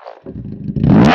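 A used sports motorcycle engine revs briefly up close, its rumble swelling and rising in pitch to a loud roar in about a second.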